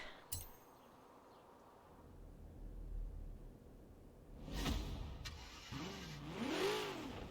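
A 1957 Studebaker Golden Hawk in the Forza racing game idles quietly, then revs and accelerates in rising, swooping engine surges, growing louder toward the end, with a short click at the start and no talk.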